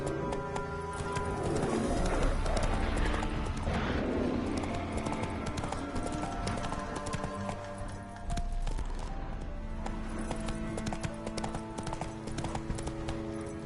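Roach the horse in The Witcher 3 trotting with steady, fairly faint clip-clopping hooves, with birds cooing and calling in the background throughout.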